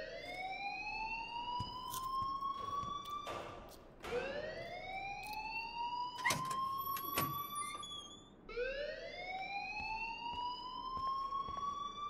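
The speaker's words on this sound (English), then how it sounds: "please turn off that alarm" A rising and falling electronic alarm rings in the video game Life Is Strange, sweeping up in pitch three times in steady cycles, loud and close, with a few brief clicks between the sweeps.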